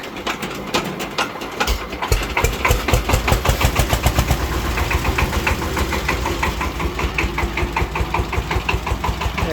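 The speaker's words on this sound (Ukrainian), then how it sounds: "трактор завівся з півоберту" A DMTZ 180 walk-behind tractor engine sputters and catches from a hand starter, then settles into a loud, steady rhythmic chugging idle, close by with no voices.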